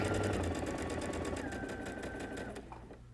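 A sewing machine stitches fabric with a rapid, even mechanical chatter that runs steadily and slowly fades toward the end, close and quiet with no speech.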